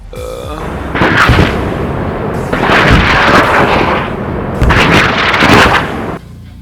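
Sentry shots striking a target in a tower defense video game: three loud, booming impacts with sharp attacks, each roughly a second long and spaced about two seconds apart, with no talking.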